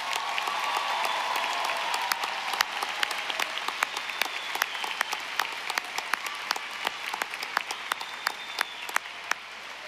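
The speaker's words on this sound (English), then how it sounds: "One more time, a big round of applause for our class of 2026." A large crowd at a University of Evansville commencement applauds the graduating class of 2026, a dense steady clapping roar with sharper individual claps standing out near the microphone, tapering slightly toward the end.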